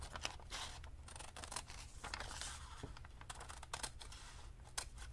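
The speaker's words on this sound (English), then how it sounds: "I will cut up the edges so they all match and look the same" Scissors snipping around the edges of a lace doily, quiet crisp cuts spaced unevenly with small paper-like rustles between, close but faint.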